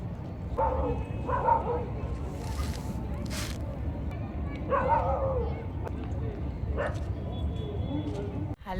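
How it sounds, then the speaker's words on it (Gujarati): A dog gives a few short barks at irregular intervals, set against steady background noise with people talking nearby. "જો ડોગી"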